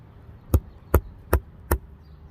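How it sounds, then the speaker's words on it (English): Wooden mallet driving a primitive stone chisel into wood, four sharp evenly spaced knocks about 0.4 seconds apart, close and crisp over a quiet background. "I'm going to try to get a little square out of it, actually, with this mallet."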